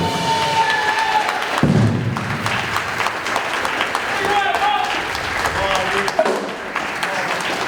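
Audience applause and cheering ring out at a storytelling slam in Scranton, mixed with crowd voices and scattered thumps, lasting several seconds at moderate loudness.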